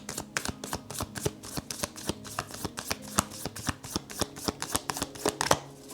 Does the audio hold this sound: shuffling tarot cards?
yes